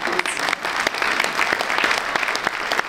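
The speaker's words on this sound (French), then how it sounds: "Alors, on vous les applaudit." An audience claps together for a group of volunteers during a community radio event, a steady, dense patter of many hands that stays even in level throughout, with no talk over it.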